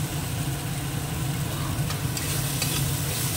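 Garlic paste, tomato and slit green chillies sizzle and crackle in a hot pan, a steady close frying hiss with light stirring scrapes running throughout the short stretch, no voices.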